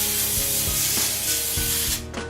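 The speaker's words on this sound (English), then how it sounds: "you want to spray it with Pam" Pam cooking spray hissing onto a lined baking pan, a few short close bursts of airy spray over a couple of seconds, fairly quiet.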